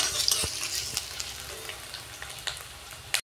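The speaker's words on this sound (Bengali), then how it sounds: "পেঁয়াজটা ভালো করে ভেজে নেব আমি" Onions frying over a high flame in a pan, a loud continuous sizzle with occasional stirring clicks, ending abruptly.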